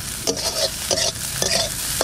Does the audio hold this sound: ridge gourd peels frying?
yes